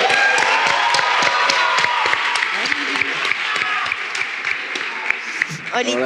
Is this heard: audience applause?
yes